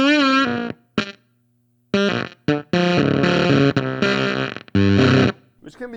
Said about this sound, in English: If it's really choked like that, it'll give you these glitchy sounds.